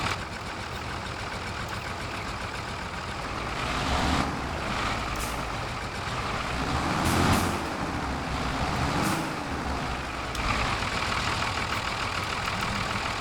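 A truck engine runs steadily in a farming video game, a loud close drone that swells a few times, with brief hissing bursts like air brakes and no voices.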